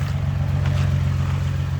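Nissan 350Z engine idles steadily after an engine swap, a low, even hum close by with no voices.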